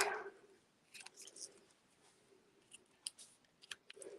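Scissors snip through paper in a handful of quiet, crisp cuts spaced irregularly at close range while making a stamped card, with no talk over them.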